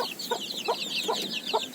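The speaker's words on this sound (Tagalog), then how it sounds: "Yung 3 sisiw dyan na Brahma at saka yung kay Chik-Chik" Brahma chicks and hens cluck close by, a steady chatter of high chick peeps running under four evenly spaced, lower hen clucks.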